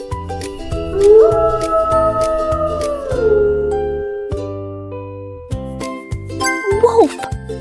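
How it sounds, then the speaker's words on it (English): Wolf howling: a single long rising and sustained howl, then a shorter second howl near the end, heard over cheerful background music. "Wolf! You're right!"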